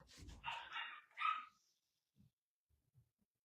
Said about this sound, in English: You're going to hear the dogs probably for a minute